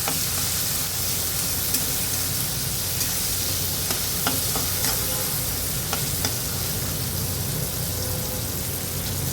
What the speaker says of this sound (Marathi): तेलावर छान 2 मिनिटं परतून घेऊया.